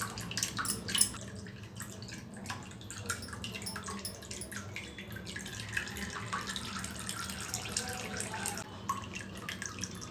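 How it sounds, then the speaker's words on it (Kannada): Homemade hair oil with fenugreek seeds is strained and poured into a bottle, a soft, continuous liquid trickle with small drips and splashes, close and fairly quiet. "ಫಿಲ್ಟ್ರ್ ಮಾಡಿಕೊಂಡು ಆಮೇಲೆ ಬಾಟ್ಲಿಗೆ ಹಾಕಬೇಕು ನೋಡಿ ಈ ರೀತಿ ಹಾಕಿದ್ರೆ ಅಂದರೆ ಎಣ್ಣೆ ನೀಟಾಗಿ ಇಳಿಯುತ್ತೆ"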